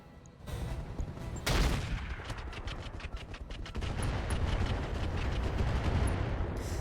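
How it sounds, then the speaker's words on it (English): Artillery barrage landing on a mech in the video game RogueTech: a loud burst of overlapping explosive booms and crackling impacts rolls on continuously for several seconds, with no voices. "we're going to drop artillery at this point on the Javelin"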